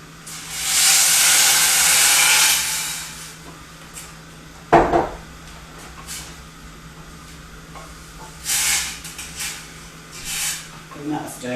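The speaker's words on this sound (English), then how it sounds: "And then we're going to add our coconut water." Coconut water poured into a pan of low-protein curry with shredded coconut, giving a loud hissing, sizzling burst for a couple of seconds, then quieter stirring and utensil clatter against the pan, with kitchen noise between.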